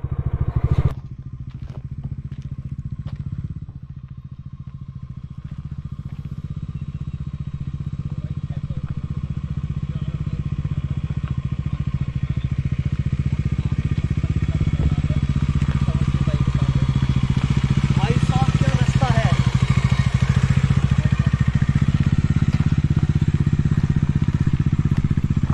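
A motorbike descends a dangerous, rough, steep path near Panikot Lake in Faridabad, its engine droning steadily with clatter and crackle over the rugged ground, while riders talk.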